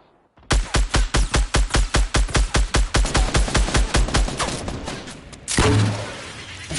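Rapid automatic gunfire in Fortnite, a steady burst of about twenty loud, evenly spaced shots that stops abruptly and gives way to a deeper blast and a rumble.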